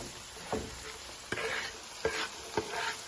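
Onions cook in a hot pan with a steady sizzle, broken by four sharp spoon scrapes or stirs spaced roughly half a second to a second apart, close and moderately loud, no voices.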